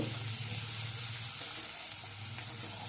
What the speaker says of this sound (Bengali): দিয়ে পেঁয়াজ আর টমেটো একটু নাড়াচাড়া করে নেব।